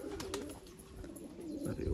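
Close, continuous low cooing comes from loft-kept high-flyer pigeons, a soft murmuring drone with a few faint chirps and light knocks scattered over it.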